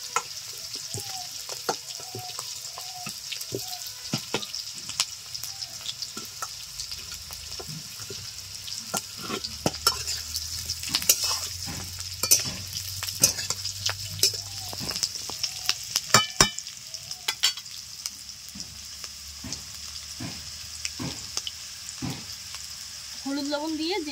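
Previously fried potatoes tipped into a hot frying pan sizzle steadily while a spatula clacks and scrapes in irregular bursts, the frying hiss loud and close throughout.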